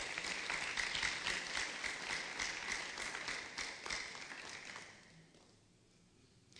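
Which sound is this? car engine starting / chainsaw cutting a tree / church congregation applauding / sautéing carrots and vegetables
church congregation applauding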